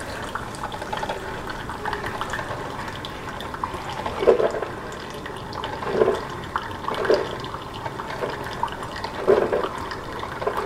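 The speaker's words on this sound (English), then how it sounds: "I kind of like the sound of coffee brewing, you know, it's something I'm waiting for." A home coffee maker brewing coffee, a continuous low watery gurgle with periodic bubbling spurts every second or two, close and steady, with no talk.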